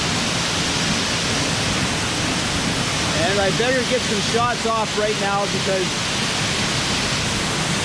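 Small trickling waterfall at Salto de la India in San Vicente de Chucurí, Colombia, giving a steady broadband rush throughout, with someone talking over it midway.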